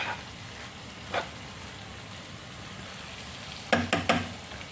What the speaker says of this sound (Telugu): ఈ డ్రై ప్రాన్స్ వేపాం కదండి ఇందులో వేసేద్దాం వేసి ఒకసారి కలిపి